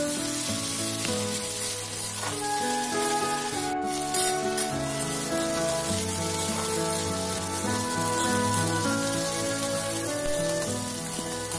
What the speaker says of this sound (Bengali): টমেটো কুচিটা দিয়েও একটু ভালোভাবে ফ্রাই করে নেব।